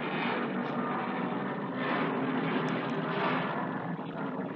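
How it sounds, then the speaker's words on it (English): A low-flying airplane passes overhead, its broad, steady engine roar filling the scene loudly and continuously, swelling slightly as it goes by. "Wow, that's a low flying plane."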